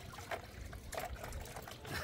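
Water trickles and splashes in short pours while a puppy is bathed at home, close and soft, arriving in a few uneven bursts.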